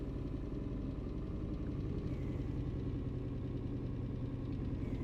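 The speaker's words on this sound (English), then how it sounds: "I do like the sound of the engine with this one" A Scania truck engine runs at a steady, low rumbling idle throughout, close and constant with no voices.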